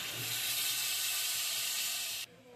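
Water poured into a hot pan of spiced potato and cauliflower, giving a loud, steady broadband hiss and sizzle that runs close and continuous for about two seconds, then cuts off abruptly.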